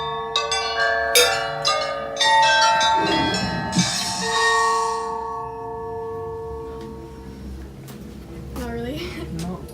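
A bell chimes in a Harry Potter video game, struck several times with bright ringing tones that hang and fade, mixed with other game sound effects and a voice speaking over it.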